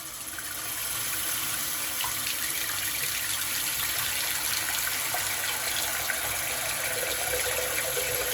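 Tap water running steadily into a sink with a clogged drain, a constant close rushing gush that starts at once and continues unchanged throughout, with no talking.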